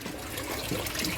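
Water flows steadily into an aquaponics bell siphon, a soft continuous trickle and gurgle with the inflow easing off, heard alone and close.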